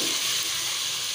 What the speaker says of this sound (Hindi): ये मसाला हमारा जो है प्याज लहसुन अदरक का मसाला जो है हमारा भुनना शुरू हो गया जी